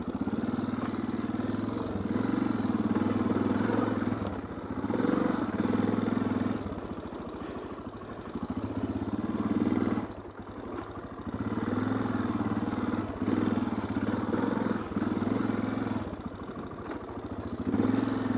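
A Suzuki DR650 dual-sport motorcycle ridden on dirt, its single-cylinder engine droning loudly and rising and falling with throttle changes, with rattling clatter from the rough ground throughout.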